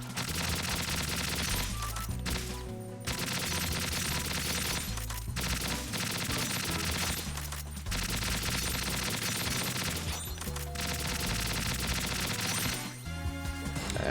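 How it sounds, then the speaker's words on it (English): Sustained assault rifle fire in Metal Gear Solid 2 VR Missions, a dense continuous clatter of shots buried in loud game music and effects, with brief pauses between bursts. "And that's the assault rifle stuff."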